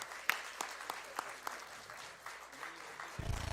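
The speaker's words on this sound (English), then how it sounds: "Let's give it up for our contestants." Audience applause for contestants on a live Newlywed Game-style show: a small crowd gives scattered, moderately faint clapping with separate distinct claps, which thins out before a low rumble at the end.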